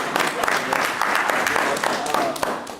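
An audience at a high school speaking event claps, a dense patter of many hands that carries on for a few seconds under a speaking voice.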